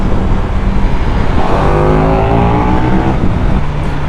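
A loud, close motorcycle exhaust roaring and revving steadily, its pitch rising and falling, with no talking.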